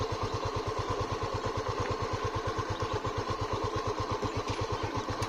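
Honda CB300F motorcycle engine chugging up a steep incline in gear without throttle, a close, even low-pitched thump repeating rapidly and steadily throughout.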